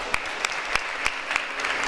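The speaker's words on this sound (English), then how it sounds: "Big round of applause for this young boy." An audience claps for a young guitar prodigy at a Sai bhajan devotional music event, a brisk burst of applause with several sharper claps standing out as it carries on without pause.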